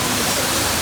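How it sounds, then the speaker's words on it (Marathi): Abbey Falls in Coorg roars as a dense, steady rush of falling water, loud and unbroken across a short moment, with no voices. "मी तर माझ्या पहिल्या आयुष्यात एवढं मोठं धबधबा पाहिलं"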